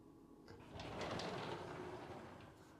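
A shaker-style pocket door in a 30 ft tiny home slides along its track with a soft, faint rumbling swoosh that swells and fades over a couple of seconds, with no talking.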